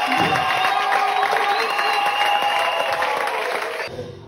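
A church congregation cheering and applauding, a dense, loud wall of clapping and voices that holds steady before cutting off near the end.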